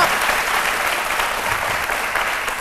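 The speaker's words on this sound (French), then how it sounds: "applaudit très fort" Loud, sustained applause from a studio audience on a midday television programme, thick even clapping for the whole stretch.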